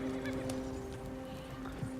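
In Red Dead Redemption 2, a horse's hooves and snorting neigh sound faintly over steady in-game ambient noise, brief and somewhat distant, with no talk.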